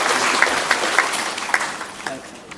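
Audience clapping at a prize award ceremony, a dense burst of applause that is loud at first and gradually thins out, with a voice speaking over it.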